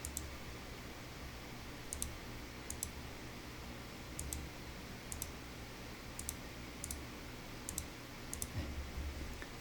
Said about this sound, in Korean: W를 눌러서 와이어링이 될 수 있게